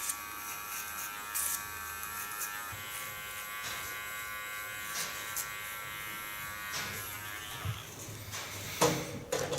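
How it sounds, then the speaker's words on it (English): Large electric hair clipper buzzing steadily as it cuts hair for an asymmetric bob in a salon, a continuous close motor hum with slight shifts in pitch as the blades move through the hair. "So far the large clipper."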